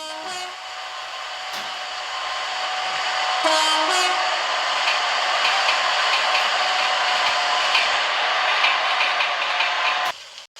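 A Class 365 train in the Roblox game Ro-Scale Railway passes through a station platform on the express track without stopping, a loud continuous rumble and whine that swells and holds for about ten seconds, with brief horn-like tones near the start.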